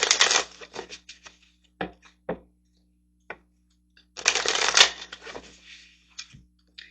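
Tarot cards are shuffled and handled in a couple of brief bursts of riffling, with scattered soft flicks and taps between them, close and fairly quiet.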